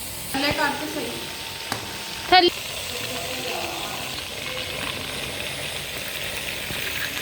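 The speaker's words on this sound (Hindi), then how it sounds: "अभी ये फ्राई हो रहे हैं" Seekh kebabs of raw mince sizzle steadily on a hot tawa, a continuous close frying hiss with a few sharp clinks and scrapes of a utensil early on.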